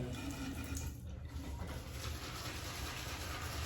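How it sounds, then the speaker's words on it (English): Water trickles and splashes from a tap into a shaving lather bowl, a soft, steady pour heard up close at low volume. "Let me get a little bit more water in there."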